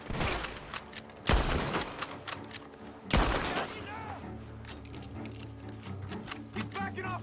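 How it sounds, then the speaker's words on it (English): Gunfire rings out from a barn in Red Dead Redemption 2, with two loud sharp shots standing out among scattered fainter pops and clatter, mixed with game voices and background sounds. "The gunshots are coming from that barn."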